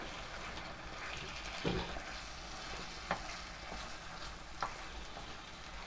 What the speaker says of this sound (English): Okay, we are going to mix everything and stir.